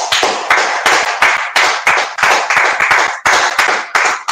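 A church congregation claps together in a steady rhythm, about two sharp, loud claps per second, close by and with no talk.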